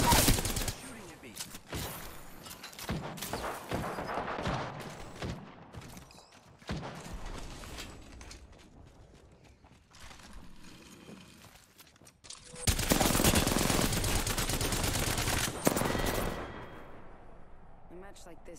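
Rapid bursts of gunfire in the video game Apex Legends, with a dense loud stretch near the end, alongside a player's voice talking over the action.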